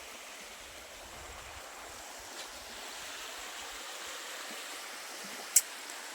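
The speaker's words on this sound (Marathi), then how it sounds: "भाड भाड भाड भाड भाड भाड आवाज येतोय पाण्याचा" A clear stream flows past the edge of a cotton field, a steady soft rushing wash of water, close and continuous with no talking and one brief sharp click.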